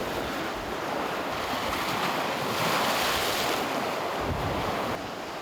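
Ocean surf breaks against the rocky shore of Yeoseodo, a windswept stone-walled island off South Jeolla, Korea, in cold weather: a loud, continuous roar of crashing waves mixed with gusting wind, with no voices.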